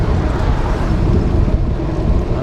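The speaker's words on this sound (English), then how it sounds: "Very windy." Strong wind gusts pound the microphone of a cyclist commuting home on a hot day, a dense, loud, unbroken low roar filling the whole moment without any speech.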